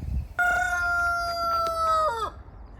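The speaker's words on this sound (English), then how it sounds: "those are roosters, right?" A rooster crows once nearby, a loud drawn-out call lasting about two seconds that bends downward at the end, heard outdoors by a car with faint background noise.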